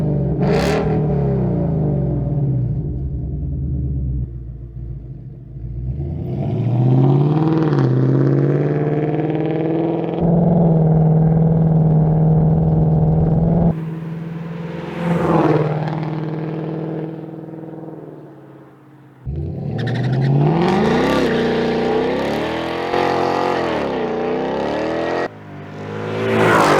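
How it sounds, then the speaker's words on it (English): A 2018-2020 Ford Mustang GT with a MagnaFlow xMOD exhaust in its loudest setting, resonator-delete X-pipe and block-off plates removed, revs repeatedly, its deep engine note rising and falling in long pulls with brief idle pauses between. "open up the xMOD system to its loudest configuration. This will be the loudest, most aggressive offering."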